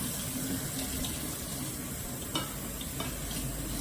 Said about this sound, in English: Turn on your cold water.